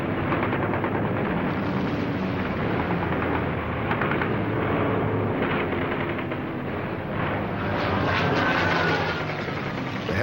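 Dense roar of 40 or 50 propeller fighter planes, including Hellcats, with bursts of gunfire and rattling weapon noise, loud and continuous, a chaotic Pacific aerial dogfight.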